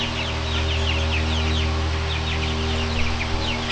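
Baby chicks and organic hens on a homestead during a heat wave make repeated high chirps and soft clucks over a constant low hum, close by and fairly loud.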